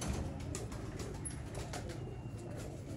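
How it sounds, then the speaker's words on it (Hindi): Salara Teddy pigeon, bought from Mian Nazir, cooing softly in a steady low murmur with no talk, set against a faint background hum. "ये है जी मियां नज़ीर साहब का सलारा टैडी कबूतर।"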